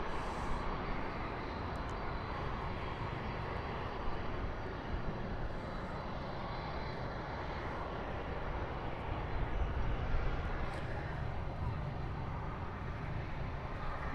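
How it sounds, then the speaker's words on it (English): An American Airlines Boeing 777-300ER jet rumbles at Dallas/Fort Worth airport at night, a steady, moderately distant engine drone that builds gently toward the end. "So a 777-300ER for American Airlines Flight 80 going to London Heathrow."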